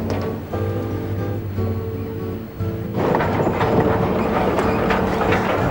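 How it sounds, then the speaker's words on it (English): A steam train rumbles along its tracks with low, steady clatter and droning tones, growing louder and noisier partway through as it rolls on. "the clickety-clack of the tracks, the creaking of the cars, and the unmistakable whistle"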